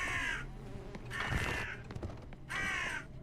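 Crow cawing in the game Deadlock: three loud, harsh caws spaced about a second apart over faint background rumble, with no talk.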